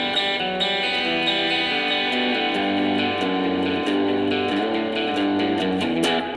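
An electric Strat guitar rings out through a Fender Mustang GT40 combo on its Bassman amp model, with sustained chords and picked notes in a clean, full tone and no talking.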